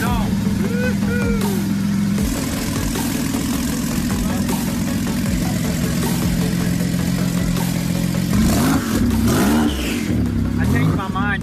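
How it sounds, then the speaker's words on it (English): Porsche 911 Turbo exhaust revving and idling up close, a steady engine drone with rising and falling throttle blips near the end, under overlapping talk. "Open that exhaust."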